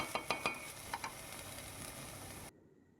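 Ginger-garlic paste sautés in a pan for egg kosha, a soft steady sizzle with a few sharp ticking taps of a spatula early on, fairly faint, ending abruptly; no voices.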